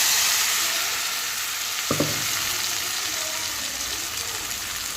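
Onion, chopped ginger, garlic and cumin frying in a pan give a steady close sizzle, broken by one brief scrape of a stirring utensil, with no voices.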